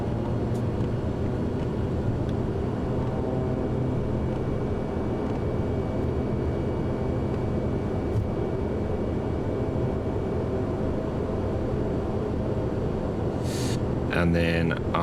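A Pilatus PC-12 turboprop in Microsoft Flight Simulator taking off into bad weather, a steady droning engine and airflow roar held throughout at a constant level, with a voice talking over it.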